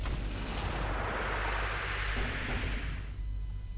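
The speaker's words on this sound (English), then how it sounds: "Okay, so I'm shooting rockets" Rockets launch from a ship in the game MUTEKI as a loud, continuous rushing whoosh of exhaust over a low rumble, steady for a few seconds before thinning out, with no talk.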